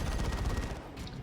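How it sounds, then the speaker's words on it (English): A lascannon in Dawn of War 2 pounds at enemy generators, a dense rumbling burst of heavy energy fire filling the short moment, loud and continuous. "Las cannon hitting gens."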